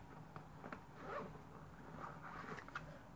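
A small zipper on a Rebecca Minkoff mini Cupid handbag slides along its track, a faint, soft rasp heard close and alone for a few seconds.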